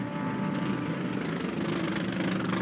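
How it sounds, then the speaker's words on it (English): Mercedes-AMG GT race cars idle on the pit limiter in pit lane at a Queensland GT World Challenge round, a steady burbling, popping engine drone that holds loud and close throughout with no voices. "Those Merc AMGs sound utterly brutal on the pit limiter."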